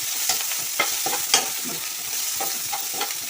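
Onions fry in a pan for chicken gravy, sizzling steadily and close while a utensil stirs and scrapes through them with a few sharper clinks.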